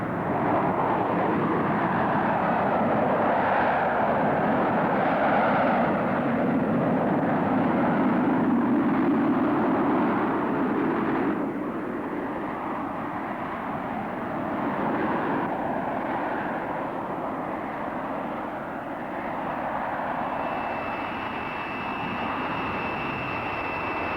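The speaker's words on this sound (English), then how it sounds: "the Harrier can move out at Mach 1 and climb at a rate of nearly 10 miles a minute in conventional" Harrier jet aircraft at an air show, a loud, steady broadband engine roar that holds for the whole stretch and eases slightly partway through, with no voices.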